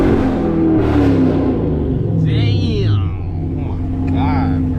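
A manual Chevrolet Camaro SS 1LE V8 engine rumbling and revving from inside the car, a loud, deep, sustained roar with rising and falling pitch, while someone talks excitedly over it.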